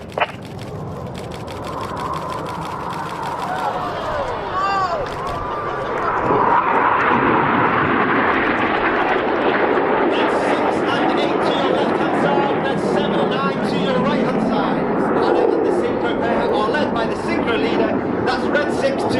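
Red Arrows jets at Old Buckenham Airshow flying the Hanna Break split, a swelling roar of jet engines that rises and sustains loudly overhead while a commentator talks over the display.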